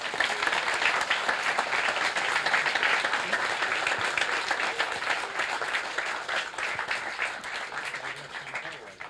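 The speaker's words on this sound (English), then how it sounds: "So I'd like to give a really, really big round of applause for everyone who's helped set today up." Steady, dense applause from an audience at the YOTA2017 gathering at Gilwell Park, England, filling the room evenly at close range and slowly tapering near the end.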